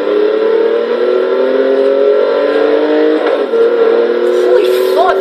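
A 2014 BMW i8 accelerating in the racing game Forza Horizon 3, a loud sustained engine drone with a slowly rising pitch, steady throughout, with a person's voice talking over it.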